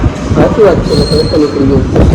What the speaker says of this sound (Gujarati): આ રેલવે સ્ટેશન છે